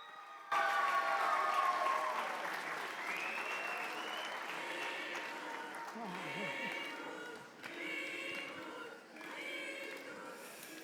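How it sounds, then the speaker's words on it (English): Sustained audience applause welcomes Father Carlos Ballbe Sala, a Spanish priest, at a religious festival, loud and steady for about ten seconds, with a swelling tone and faint voices mixed into the crowd noise. "Let us greet him with a great applauding."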